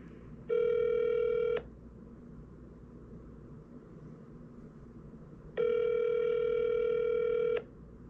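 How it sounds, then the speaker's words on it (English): Telephone ringback tone while a call waits to be answered, two long steady buzzing rings about four seconds apart over a faint background hum. "Please answer the phone."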